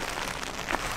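Rain falls at an outdoor timber frame house building site, a dense steady patter filling the whole moment, close and fairly loud.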